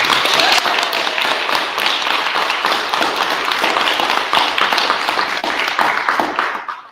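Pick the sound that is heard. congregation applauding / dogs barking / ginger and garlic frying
congregation applauding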